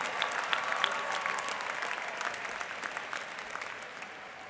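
At the 2015 USC Price commencement ceremony, the crowd gives a round of applause for Master of Public Policy graduates: dense, fairly distant clapping that holds steady throughout.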